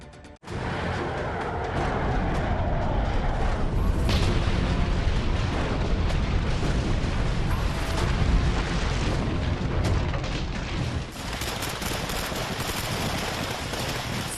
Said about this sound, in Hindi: सैनिकों की फायरिंग